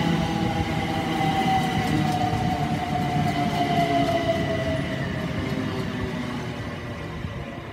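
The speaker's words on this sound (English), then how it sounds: "377155, sorry, is now departing with the 1726 Southern Service to Brighton" A Southern class 377 electric train pulls out of Worthing station, its rumbling wheels and rising motor whine carrying steadily and then slowly fading as it moves away, with no voices.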